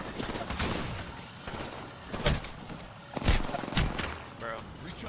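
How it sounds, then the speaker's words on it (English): Gunfire striking the player in a battle royale video game, a handful of sharp, irregular impacts cutting through the background while a voice talks over them. "I'm getting shot."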